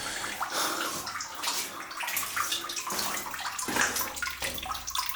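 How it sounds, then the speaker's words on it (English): Running water splashes and gurgles inside an abandoned villa, an irregular wet stream with bursts and sloshes, moderately close and steady, with no one speaking over it. "But I heard running water, and I couldn't help but want to come check this out."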